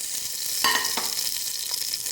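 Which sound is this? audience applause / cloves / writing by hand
cloves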